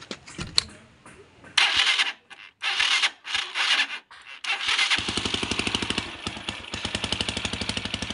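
A motorcycle is started during a rectifier-regulator test: a few cranking and sputtering attempts catch, then the engine settles into a steady, close idle with an even putter, and no one speaks.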